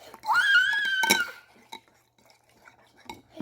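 Ingredients stirred in a bowl with a utensil, producing a few light clinks and scraping taps, mostly quiet, with a voice and a high squeal early on.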